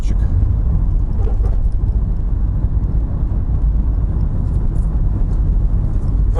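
Inside a Honda Vezel driving through the city, a steady low road and engine rumble fills the cabin continuously, loud and even, with faint traffic noise from outside.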